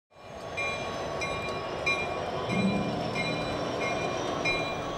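A train rumbles past on railroad tracks with a continuous heavy roll, faint rhythmic clicks of wheels over joints and a thin metallic whine, steady and fairly close.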